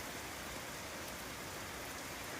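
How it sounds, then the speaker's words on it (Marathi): Heavy rain pours steadily with wind in Tuljapur, a dense, continuous hiss of drops on surfaces close by, with no voices over it. "वारं आणि पाऊस, पडणारा पाऊस, अगदी जोरदार पाऊस या ठिकाणी चालू आहे."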